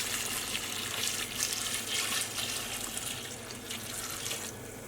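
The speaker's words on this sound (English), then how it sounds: "And we just want to top this up with water until it reaches the top." Tap water pours steadily into a pot of Persian chicken and prune curry with vegetables, topping it up to the brim, a close, continuous splashing rush that eases slightly toward the end.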